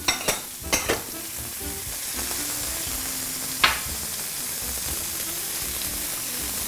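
Onions, peppers and mushrooms hit hot oil in a pan and sizzle steadily, close up, with a few sharp clinks and stirring knocks at the start and one more partway through.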